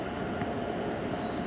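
A VRE commuter train at the end of the Northeast Corridor gives a steady, distant rumble with a faint high whine near the end, continuous and without speech.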